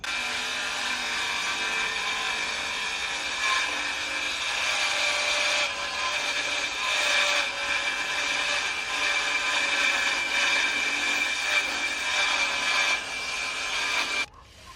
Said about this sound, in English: I'm going to set the fence on my circular saw here